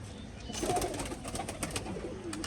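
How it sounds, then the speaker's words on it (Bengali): Pigeons at a Rajshahi pigeon farm coo in soft repeated throaty calls over a steady background hum, close and moderately loud throughout the short stretch. "পায়রাও তো উপরে পায়রা উঠছে"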